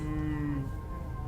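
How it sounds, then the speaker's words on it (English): Low, drawn-out cow-like moo used as a sound effect in the horror visual novel Scarlet Hollow, a single sustained call that slowly falls in pitch and fades after about half a second, heard alone without talk. "Did they use a cow for the sound effects?"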